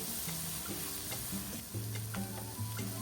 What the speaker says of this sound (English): Saute for about a minute with a pinch of salt and some pepper powder.